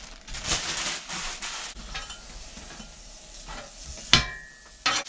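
Ground beef and sausage frying in a pan, a steady close sizzle with scraping stirring strokes, a sharp clank of utensil on pan near the end, no voices.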